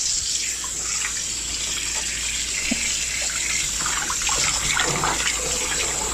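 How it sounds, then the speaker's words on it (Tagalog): Hot water runs steadily over chicken thighs sitting in a kitchen drainer, a continuous close splashing and hiss of tap water with scattered drips and small knocks, no voices. "mainit na tubig po yan pinanghugas"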